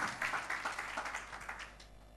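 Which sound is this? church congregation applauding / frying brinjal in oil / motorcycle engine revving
church congregation applauding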